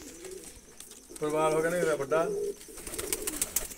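Pigeons kept by a hobbyist coo in a low, throaty burst of about a second, close by and fairly loud, with someone talking before and after.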